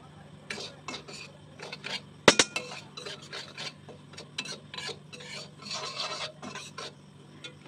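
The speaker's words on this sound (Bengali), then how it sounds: "তাও আমি একটু মানে হালকা করে ভেজে নিচ্ছি" Semolina being dry-roasted in a pan while a spoon repeatedly scrapes and rubs the metal, with short gritty strokes and one sharp knock against a quiet background.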